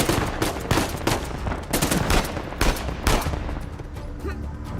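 Pistol gunshots in the Uncharted 4 video game crack out in a quick, uneven run of sharp, loud blasts that echo, with no voices over them.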